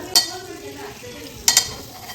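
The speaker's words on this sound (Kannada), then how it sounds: "ಒಂದು ಸ್ವಲ್ಪ ಬಟರ್ ಹಾಕ್ತಾ ಇದ್ದೀನಿ" Butter goes into a kadai of hot oil heated for frying onions, giving two short bursts of sizzling and spattering, one at the start and a louder one later, with quieter stirring between.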